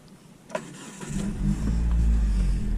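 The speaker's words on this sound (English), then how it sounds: "But look how easy this car starts." A Hyundai Elantra's engine cranks and catches, building quickly into a smooth, steady idle that runs close and loud, with a click of the ignition just before it starts.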